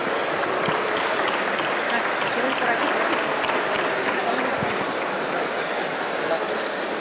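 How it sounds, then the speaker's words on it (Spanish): An audience at a tourism fair stand applauds local officials, including a mayor, with steady, dense clapping that holds at a constant level throughout, close and fairly loud, and with some voices mixed in. "Un aplauso para ellos."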